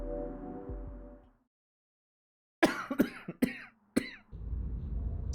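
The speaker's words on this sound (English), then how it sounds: "I don't know where this cough came from." After a short hum and a moment of silence, a person coughs four times in a sharp, close burst indoors, followed by a low steady background noise.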